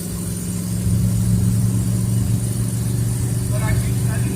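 Engine of an old Ford Fairlane pulled from a scrapyard, droning steadily as the car drives along at around 50 with no speedometer, a continuous close mid-pitched hum filling the cabin.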